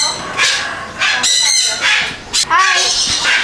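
Chickens squawk and cackle loudly in close, overlapping bursts, a noisy chorus of several birds.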